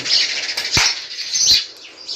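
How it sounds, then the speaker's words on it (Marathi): Sparrows' wings flutter in quick bursts in a courtyard, close and fairly loud, with a couple of soft thumps as they take off or land. "ह्या चिमण्या असंख्य चिमण्या आमच्या अंगणात बाराही महिने असतात"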